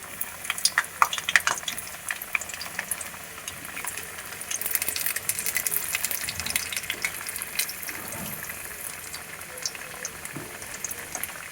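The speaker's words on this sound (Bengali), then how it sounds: "আমি একটু এতে আলু দেবো, তাই কয়েক পিস আলু ভেজে নেব" Potato pieces fry in hot oil in a home kitchen, a dense bubbling crackle with busy spatters early on and occasional stirring scrapes, steady and close throughout.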